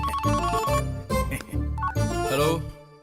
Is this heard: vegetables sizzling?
no